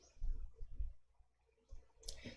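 Sharp mouse clicks on a computer while selecting Advanced Filter in an Excel spreadsheet: a few quick taps close to the mic, the last one brighter, over a quiet room.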